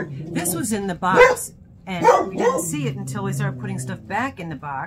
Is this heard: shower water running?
no